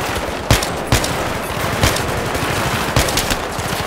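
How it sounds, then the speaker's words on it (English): Rapid game gunfire from a real gun in Battlefield 3, steady dense bursts with several sharper shots standing out, loud and continuous with no talk. "You hear that? You have a real gun."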